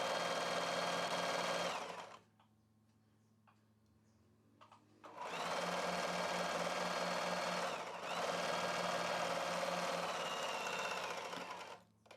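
A sewing machine stitches along a double-folded strip of cloth for a child's hair scrunchie, running loud and steady in two long bursts separated by a quiet pause of a couple of seconds.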